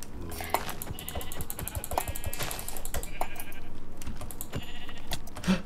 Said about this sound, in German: Ich kill ein paar Schafe in der Zeit.